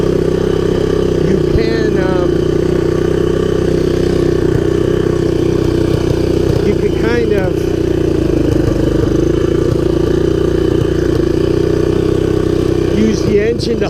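A 1983 Honda ATC200X all-terrain vehicle's engine runs steadily at a low idle-like drone throughout, close by, with someone talking over it.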